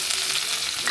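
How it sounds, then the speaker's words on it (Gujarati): Onion fries in a hot tempering, giving a loud, dense, continuous sizzle up close with no voices. "ઓનિયનનો વઘાર કરી નાખીશ"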